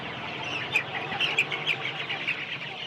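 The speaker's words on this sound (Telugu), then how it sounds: "గిరిరాజ కోళ్ళు గిరిరాజ కోళ్ళ ఇది చూపించండి" Giriraja chickens cluck in short, close bursts at a poultry seller's, repeated every few moments over a low barnyard background.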